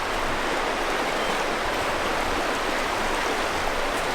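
A river at high spring melt rushes steadily at close range, a full, roaring wash of water that never lets up.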